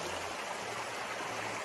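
A shallow, low-water river flows through countryside scrubland, a steady close rushing and gurgling of water without any voices over it.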